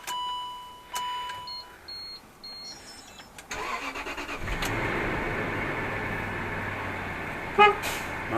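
A Land Rover Discovery 3 chimes and beeps at ignition, then the engine cranks and settles into a steady idle, followed by a short horn toot near the end, close and clear.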